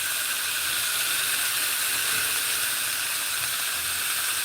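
Food fries in a frying pan, a steady loud hiss of sizzling oil that continues unbroken and close, with no talking.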